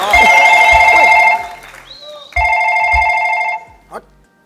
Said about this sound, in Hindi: भाभी का जो फोन बज रहा है